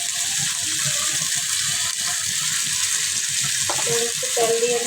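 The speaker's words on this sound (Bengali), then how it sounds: "তেল দেওয়া হচ্ছে" Oil being poured into a hot pan and sizzling steadily while fish is cooked, a continuous close frying hiss with faint stirring and a few clinks near the end.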